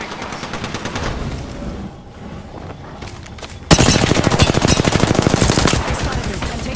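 Automatic weapons fire in the video game Apex Legends, a rapid stream of loud gunshots that grows suddenly heavier and denser midway, sustained without pause to the end.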